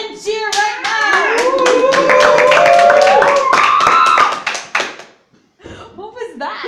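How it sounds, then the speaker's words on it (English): An audience claps and cheers loudly at a live event, a dense burst of hands and whoops over several seconds with a voice rising above it, before the noise drops away abruptly and a few quieter sounds follow. "clap and cheer right now"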